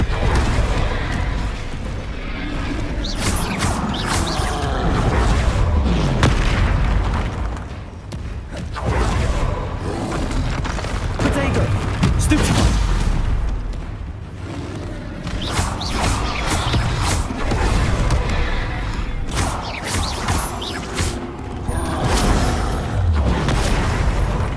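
Bombarda spell explosions in the Hogwarts Legacy video game, repeated loud booms and crashing blasts with creaking, mechanical debris noise, recurring in bursts through a long, dense stretch of action.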